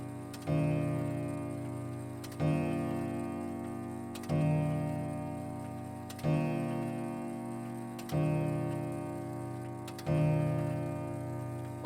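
Clock striking the hour as a radio play effect, about six evenly spaced, resonant bell-like strokes roughly two seconds apart, each ringing and fading before the next.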